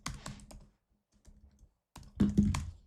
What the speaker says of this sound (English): So I'm about to type it out for you.